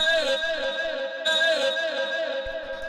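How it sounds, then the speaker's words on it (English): A sustained vocal shot stab sample from a mainroom techno track, a bright synthetic human-voice chord held for a few seconds with a slight re-attack midway, loud and alone. "the last sort of stab sound that we have here will be this vocal shot"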